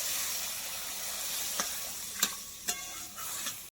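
Meat masala is stirred in a hot pan, a constant close sizzle broken by a few sharp spoon knocks and scrapes against the pan toward the end.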